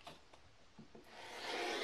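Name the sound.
trimming quilt layers with a trimmer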